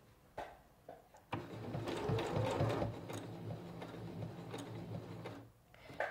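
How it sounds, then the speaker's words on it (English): A Singer Professional 9100 sewing machine stitching a button onto fabric runs in a steady, rapid mechanical whir for several seconds, with brief clicks before it starts and after it stops. "I'm gonna push the pedal until the machine stops sewing. It's gonna attach the button and tie off for me."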